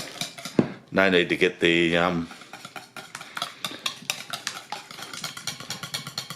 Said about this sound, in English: We're just going to whisk that cream into our eggs there.